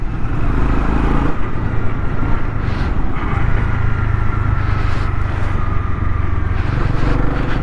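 A 2022 Honda CB300R BS6 engine pulls hard on a road ride, a loud continuous drone with rising pitch under heavy wind rush, close and unbroken.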